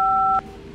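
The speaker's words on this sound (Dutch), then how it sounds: "En DTMF-tonen zijn eigenlijk de tonen van je telefoon." Two steady telephone keypad DTMF tones sound together, loud and clean, for about four tenths of a second, then cut off abruptly to a quiet background hum.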